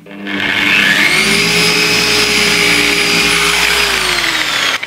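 A polishing machine runs on a car windshield during a DIY windshield bonding job, a loud steady motor whine with a high tonal hum that holds evenly for several seconds, then cuts off at the end.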